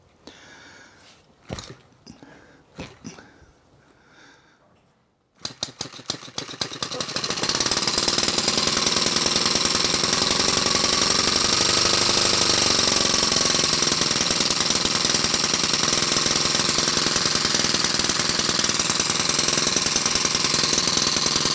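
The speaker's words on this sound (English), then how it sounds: "See, it's kicking the starter out once in a while." A Webster engine gives a few isolated pops, then catches and runs with a loud, continuous rapid knocking beat that holds steady close by until the end.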